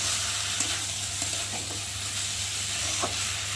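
Soaked dalia (broken wheat) stirred with spices in a frying pan, a steady close sizzle and hiss with soft scraping strokes of a spatula.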